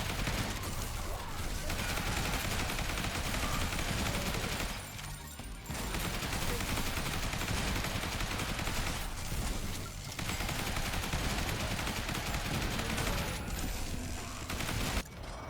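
Dense, continuous gunfire from a shotgun and an assault rifle in the zombie game Zombie Survivors, loud and unbroken, with only a few brief dips over the stretch.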